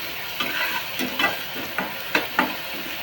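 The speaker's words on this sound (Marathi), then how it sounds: "आता हिंग टाकूया. थोडंसं परतायचं." Asafoetida and tomato sauté in a pan for a pea and potato bhaji, a soft continuous sizzle punctuated by several distinct spatula scrapes, close and unaccompanied by talk.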